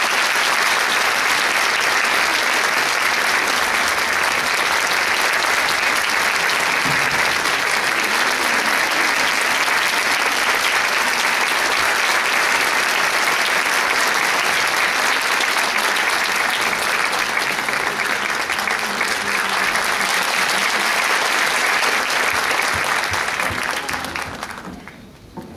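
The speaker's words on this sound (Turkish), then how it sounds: "Ve alkışlarınızla sahneye koromuzu yönetmek üzere şefimiz İlter Burak Kalay'ı davet ediyorum." A concert audience applauds loudly and steadily as a choir conductor comes on stage, a dense sustained clapping that fills the hall for over twenty seconds before fading out at the end.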